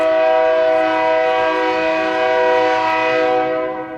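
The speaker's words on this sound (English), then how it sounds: "Comes the train. Train's going through those tracks." A train sounds its horn in a long, sustained blast that holds steady and then fades slightly at the end, loud and close.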